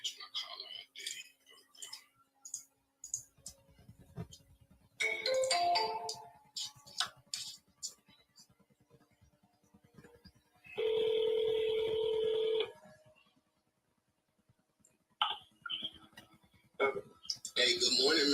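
An outgoing phone call: rapid touch-tone dialing beeps, then a long steady ringback tone, followed by more tones and clicks. Someone is talking between the sounds.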